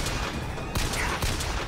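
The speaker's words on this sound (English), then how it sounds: "now I'm gonna show you some gunplay" Rapid gunfire in the video game Bioshock Infinite, a dense stream of shots and sharp cracks under a continuous noisy game mix.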